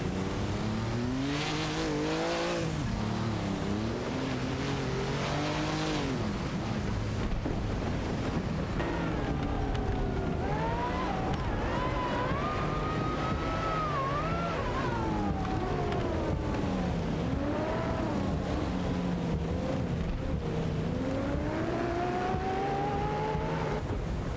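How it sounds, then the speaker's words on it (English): Race cars in an AI-driven racing video game, including a Ford Escort Mark II and a Dome Zero battling for position, with continuous engine whine rising and falling in pitch as they accelerate and shift, steady and loud throughout. "battle for 7th place between Laserlost in a Ford Escort Mark II and Wayne Train 94 in a Dome Zero"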